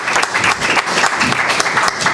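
An audience at a county prosecutor candidate forum applauding, a dense burst of close clapping that holds steady throughout.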